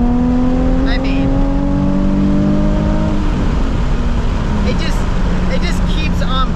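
A Nissan 350Z with early bolt-on performance mods revs hard toward 7,500 RPM, a loud rising engine wail that eases off midway into a rumbling drone, with a voice talking over it.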